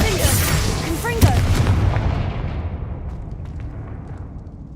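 Spell explosions in the video game Hogwarts Legacy, a loud booming blast near the start with sharp crackling bursts, then a long rumbling decay that fades out with no other sound over it.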